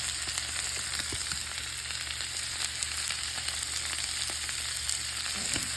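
Quail eggs fry in a pan with a steady, close crackling sizzle and scattered small pops throughout, no voices.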